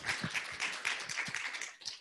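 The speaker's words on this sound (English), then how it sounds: "Let's give Michael Wood one more round of applause for speaking today." Audience applause for speaker Michael Wood at the close of a talk on Cuban baseball history: dense, steady clapping from a crowd in a room, filling the whole stretch at even loudness before tapering at the end.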